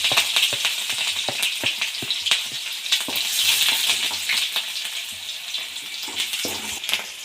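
Green chillies and chopped garlic frying in hot oil give a steady crackling sizzle, with frequent clicks and rattles from the pan, close and fairly loud throughout.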